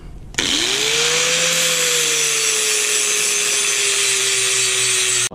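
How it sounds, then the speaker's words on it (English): An angle grinder working steel on a car exhaust before welding, spinning up to a loud, close, continuous whine with a steady tone that holds for several seconds and cuts off at the end. "I will grind the steel and clean it off"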